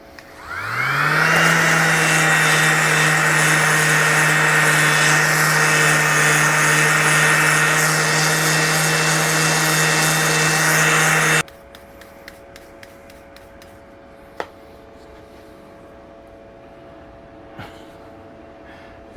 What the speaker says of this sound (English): I'm going to take this to the bandsaw and get it cut.